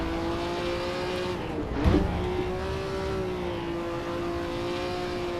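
1957 Formula 1 race car in a historic racing game at the Nürburgring, its engine holding a steady high-pitched whine, briefly interrupted by a thump and a rev change before droning on again.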